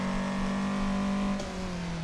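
A Toyota AE86 on a touge mountain road runs at full throttle down a straight. The engine drones loud and steady at high revs, dipping briefly partway through before carrying on.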